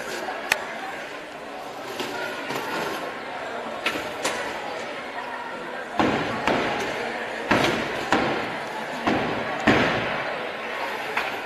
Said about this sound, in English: So the fireworks show is going.